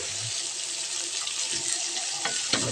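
String beans (sitaw) sautéing in a pan for a mixed-vegetable coconut-milk dish, giving a steady close sizzle with a few light scraping clicks toward the end, no talk.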